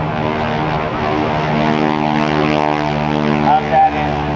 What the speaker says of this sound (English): Powered by a 600 horsepower Pratt & Whitney radial engine, Mr. Kevin Russo in the SNJ Texan